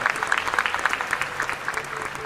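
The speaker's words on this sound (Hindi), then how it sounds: "जिनकी तालियां दिखाई देंगी" Applause rises from a hall audience, mostly young men and women, at a spiritual talk on Krishna, a steady moderate-level clatter of many hands lasting a couple of seconds.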